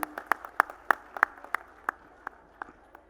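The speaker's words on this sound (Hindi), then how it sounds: "जोरदार तालियों से स्वागत।" A few people clap unevenly, sharp distinct claps in a slow, tapering rhythm, fairly close and sparse rather than a full crowd.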